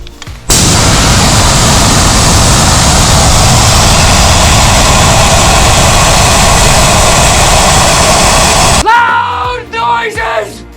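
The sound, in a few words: air escaping from Jeep tire through Apex RPV deflator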